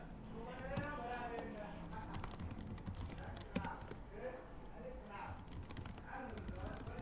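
Quick clicking keystrokes on a computer keyboard come in irregular bursts, faint and close, while someone talks over them.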